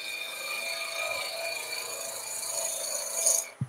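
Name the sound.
skew chisel smoothing wood on a lathe, bevel rubbing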